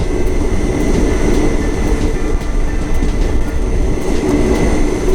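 A passenger train running on the rails, heard from inside as a loud, continuous rumbling roar with rhythmic clicking wheel beats and a faint high whine, no voices.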